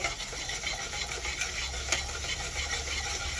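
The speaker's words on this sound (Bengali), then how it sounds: "আবারও ভালো করে কষিয়ে নেব" Spiced masala with yogurt and sugar stirred and sautéed in a pan for Bengali prawn malai curry, a steady close scraping and soft sizzle with no talk.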